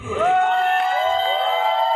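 Crowd cheering and whooping at a Kerala wedding, a steady loud roar of voices with shouts sustained for two seconds; no clear clapping stands out.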